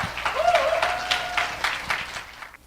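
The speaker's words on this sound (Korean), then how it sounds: "여러분 큰 박수 부탁드릴게요" Applause from an audience at a Carepilates equipment launch show in 2014 as the company head is introduced, a steady, moderately loud patter of clapping with a brief tonal sound in the background.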